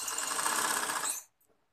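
A sewing machine runs steadily for about a second while stitching magzi piping onto a kameez neckline, its dense whirring motor close and continuous before stopping abruptly into near silence.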